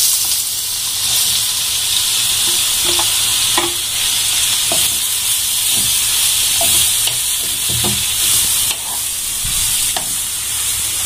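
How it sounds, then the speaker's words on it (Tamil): Mustard seeds spluttering in hot oil for a mango and ginger pickle, with a steady loud sizzle and hiss and scattered crackling pops as pieces of mango are stirred in, close up throughout. "கடுகு நல்லா பொரிஞ்சிருச்சு"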